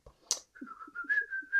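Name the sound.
person whistling, imitating birdsong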